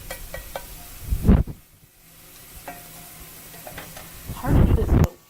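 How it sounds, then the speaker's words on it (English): Whisked eggs hit a hot pan with garlic and burst into loud sizzling, once sharply and then again a few seconds later, with quieter crackling between the bursts. "Then I'll start adding the eggs to the pan."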